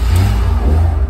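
Toyota Corolla with a 4AFE engine and upgraded Powerflow exhaust gives a steady, deep low rumble, held close and fairly loud, with no talk over it.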